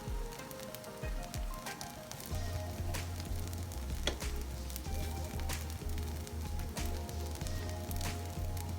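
Cured beef curry simmering on low heat, a soft steady sizzle and light bubbling that runs continuously at a gentle, even level with small pops scattered through it.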